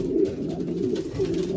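Racing pigeons in a London loft coo steadily and close by, a soft continuous throaty murmur with no talk over it.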